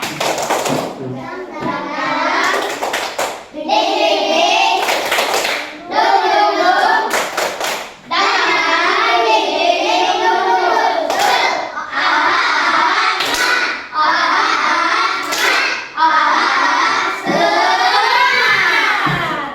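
A group of children claps together in a fast, patterned rhythm for a spirit-clap routine, bursts broken by short pauses, with voices chanting along over the clapping.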